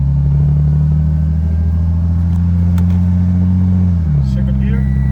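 The engine of a 2JZ-swapped GR86 with an automatic gearbox and paddle shifters drones loudly and steadily from inside the car. Its pitch drops briefly near the end as the gearbox changes gear.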